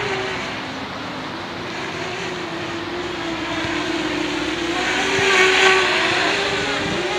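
An FPV quadcopter drone's motors at minimum throttle hold a steady buzzing whine while it rolls and pitches, with a slight swell in pitch and volume near the end, loud and continuous.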